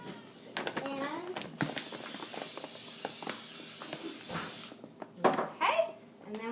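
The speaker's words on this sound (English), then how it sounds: "I'm going to get the nonstick cooking spray up here," A steady aerosol hiss of nonstick cooking spray onto a pan for about three seconds, with a voice and other talking before and after.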